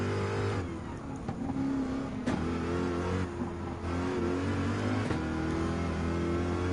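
Car engine in Gran Turismo 7 racing, revving hard and climbing through gears, each upshift marked by a sharp break and fresh rising roar, loud and close with no voices.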